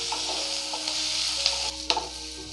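Onions with salt stir and sauté in a pan, a soft continuous sizzle broken by a few scraping strokes of the spoon, close and moderately quiet with no talking.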